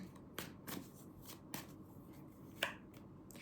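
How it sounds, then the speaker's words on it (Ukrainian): Tarot cards being shuffled in several quick riffling bursts, crisp papery flutters spaced across a few seconds, fairly quiet and without any voices. "З кожної колоди витягнемо по три карти"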